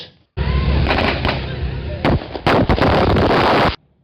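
Loud fireworks and firecrackers burst in rapid irregular succession during Christmas celebrations in Ambon, crackling and booming close by, then cutting off abruptly.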